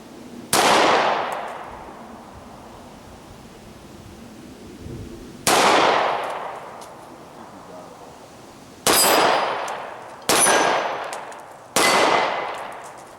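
Beretta 92FS Compact pistol fired single action at soda cans about 18 yards away: five loud, sharp shots with ringing, clanging decays, spaced irregularly over roughly thirteen seconds, with no talking.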